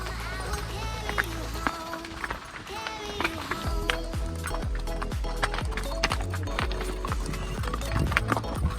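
Horses' hooves clip-clop in a steady rhythm, many animals moving together in Gulmarg, Kashmir, with background chatter and voices over the trotting.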